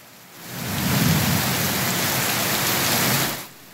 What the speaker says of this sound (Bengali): বজ্রপাত ও ঝোড়ো বাতাসের সাথে শুরু হয় প্রবল বৃষ্টি